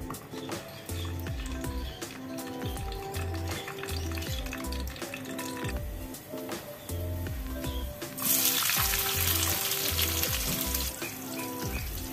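Garlic and tomato sautéing in a pan, giving a steady sizzle with occasional stirring scrapes that grows louder and brighter toward the end, with background music playing throughout.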